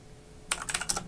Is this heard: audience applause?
no